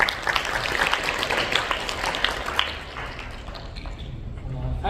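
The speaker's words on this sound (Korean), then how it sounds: "모두 뜨거운 박수로 환영의 박수 부탁드립니다" A large forum audience applauds at the opening of a Global Leaders Forum 2025 to welcome a keynote speaker, a dense, loud burst of many hands clapping that gradually thins and fades toward the end.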